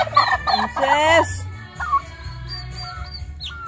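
Domestic turkeys gobbling and calling in bursts close by, a loud rattling gobble near the start followed by softer intermittent calls, with a person briefly speaking.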